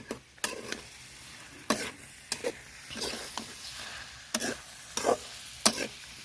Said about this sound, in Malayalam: പച്ചമുളക് ഉണക്കമുളക് നമ്മുടെ തേങ്ങാക്കൊത്ത് ഇതിന്റെ കൂടെ തന്നെ ഇട്ട് നമുക്ക് ഇളക്കി മിക്സ് ചെയ്ത് കൊടുക്കാം